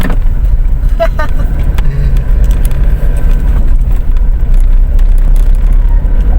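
Loud, continuous rumble of heavy road traffic with many vehicles, engines droning close by and a brief horn-like tone, while people talk faintly in the background.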